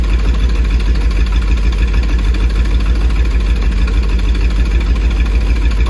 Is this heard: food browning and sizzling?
no